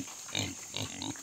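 A few soft, low pig grunts close by, quiet and brief, over a faint steady background hum.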